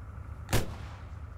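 A launcher fires in the military video game ArmA 3, one sharp booming blast standing alone against a quiet background hum.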